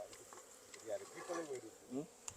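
Honey bees buzzing close around during a honey harvest from a bee box, with several rising and falling drones passing near among a steady faint hum.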